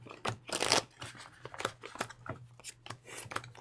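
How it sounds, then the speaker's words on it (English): A deck of Shadowrun trading cards being shuffled, a close run of crisp, papery riffles and snaps arriving in quick uneven bursts. "shuffle"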